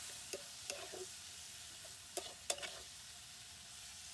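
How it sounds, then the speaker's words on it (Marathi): Peanuts and village garlic stirred and sautéing in a ground spice masala, a soft steady sizzle under a few scattered clinks and scrapes of a spoon against the pan. "मस्त आता वाटणार मसाल्यात मस्त परतली"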